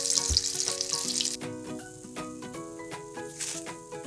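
Garlic sautés in hot oil for a hamonado sauce, giving a steady bright sizzle and crackle while music plays in the background.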